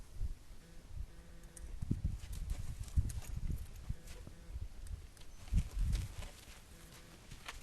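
A horse walking out under a rider, its hooves striking the ground in a steady, moderately close clip-clop rhythm with soft rustling between steps and no talk.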